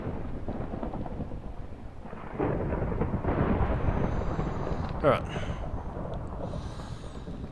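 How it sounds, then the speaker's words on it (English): Steady rain falls at night in a video game world, a soft continuous wash with a low thunder rumble swelling underneath. A voice briefly speaks over it. "And it's night and raining, of course."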